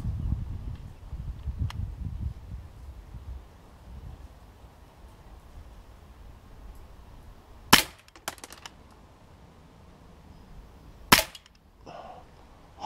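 Sig Sauer P226 4.5mm CO2 pellet pistol fired from a rest: two sharp, loud cracks several seconds apart, each followed by a short rattling tail, over quiet background with faint low rumble at the start.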